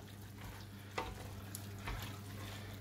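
Spaghetti puttanesca being stirred together in a pan off the heat, a soft wet sizzle and scraping with a couple of louder clunks from the utensil, close and quiet, with no talking.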